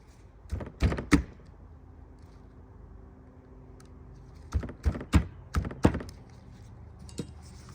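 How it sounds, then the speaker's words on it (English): Metal pins are knocked back into their holes with a hand punch, coming as sharp hammer strikes: a cluster of three near the start, then a rapid run of five or six more later, with one lighter tap at the end. "Grab our punch, knock the pins back in."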